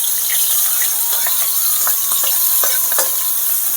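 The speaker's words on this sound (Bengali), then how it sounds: "ওইদিকে তেলটাও আমার ভাজা গরম হয়ে গেছে, ফোড়ন ভাজা হয়ে গেছে এই যে।" Whole tempering spices fry in hot oil in a pan with a loud, continuous close sizzle. Scattered small pops and crackles run through it, and no one speaks.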